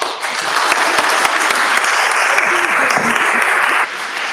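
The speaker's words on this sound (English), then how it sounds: "one more real big round of applause for Ilan Pappe" Loud, dense audience applause after a lecture, steady clapping throughout with a brief dip near the end.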